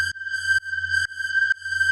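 A detuned synth with an LFO gently sweeping its filter, made for dark atmospheric techno, holds a bright, sustained tone alone that swells and dips in a steady pulse about twice a second.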